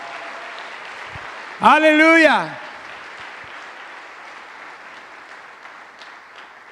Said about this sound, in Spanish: Dele el aplauso fuerte con todo su corazón.